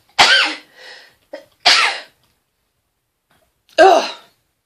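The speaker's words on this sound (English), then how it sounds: "Oh God, I'm going to sneeze." A person sneezes loudly and close up: a sharp burst, a smaller follow-up sound, a second strong sneeze, then after a pause a third forceful sneeze.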